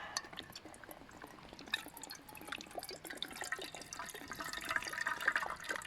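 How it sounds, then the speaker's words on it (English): Water pours and trickles into a kettle outdoors beside a camping stove, a faint continuous splashing stream that grows slightly fuller and louder toward the end, with no voices. "pour some water into the kettle."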